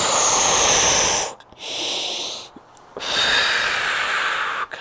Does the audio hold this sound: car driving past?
no